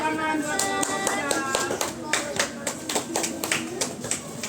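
A classroom group claps together for the third group, a lively burst of many hands that fades in the last seconds, with a voice speaking over it.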